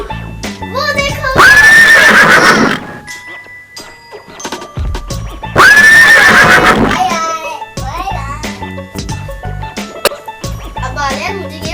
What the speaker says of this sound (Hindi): और हॉर्स को उर्दू में कहते हैं घोड़ा।